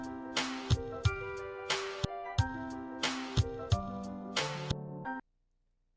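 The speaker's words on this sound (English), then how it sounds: "So I have this really simple drum loop. Went and found a snare real quick too." A simple drum loop with a snare sample plays back in Serato Sample, with punchy kicks and snare hits over sustained tonal layers in a steady groove, then it cuts off abruptly into silence.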